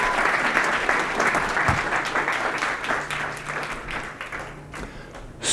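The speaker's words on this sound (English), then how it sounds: "Everybody, please give her a big round of applause." An audience at a belief-change workshop gives a woman warm, dense applause that holds steady, then thins slightly before ending in a brief close thump.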